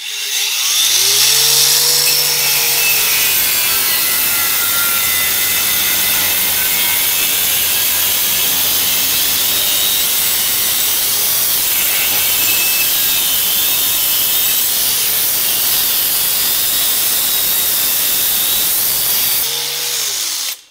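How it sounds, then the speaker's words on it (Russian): Interskol Multimax 36 angle grinder with its grinder module cutting through a pipe: a loud, steady, continuous high-pitched grinding whine with abrasive rasp, running about twenty seconds and winding down at the end, no talking. "Сейчас попробуем порезать эту трубу болгаркой."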